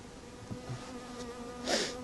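Honey bees buzz faintly around an open beehive during a frame inspection, a soft steady drone with one bee passing closer and louder near the end.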